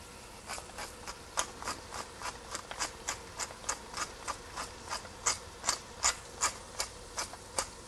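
A pepper mill grinds pepper into a Bolognese sauce with a run of crisp, regular ratcheting clicks, about three per second, close and fairly quiet.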